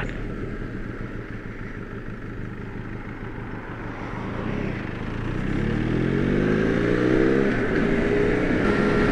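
A motorcycle rides along road 222 in Portugal, its engine droning steadily and near, then revving up and rising in pitch as it accelerates.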